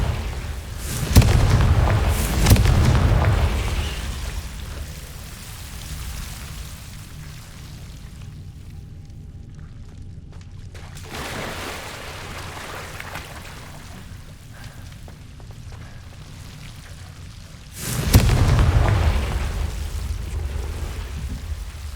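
Confringo blasting spells in Hogwarts Legacy: a heavy, roaring explosion bursts in at the start and another near the end, with a low rumbling game ambience in between.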